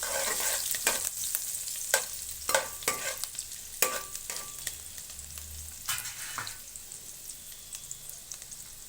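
Food frying in a pan, stirred with a utensil: steady sizzle under repeated sharp scraping strokes against the pan, close and loud, no voices.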